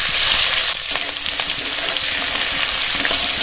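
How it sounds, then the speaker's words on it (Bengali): Chopped onion and five-spice seeds hitting hot oil in a rustic village-style kitchen, producing a loud, steady sizzle and crackle that runs continuously with occasional stirring scrapes and no talk. "তো তেল গরম হয়ে গেছে, 5 ফোড়ন দিয়ে দেবো। একটা মিডিয়াম সাইজের পেঁয়াজ কুচি।"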